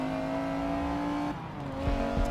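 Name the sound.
racing car engine in Forza video game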